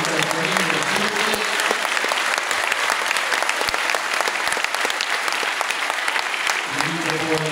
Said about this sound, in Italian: anche per loro la grande applauso per tutti